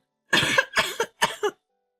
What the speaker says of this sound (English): causing dust to fly, and I end up coughing